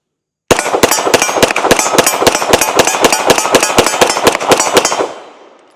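Rapid string of Glock 17L pistol shots at an outdoor range target 15 yards away, about twenty sharp, evenly spaced loud reports with a ringing decay after the last shot.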